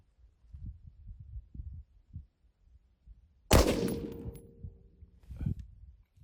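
An AR rifle fires a single Lake City M193 round with a sharp, loud report followed by a decaying ring and echo, set against low rumbling handling noise before and after.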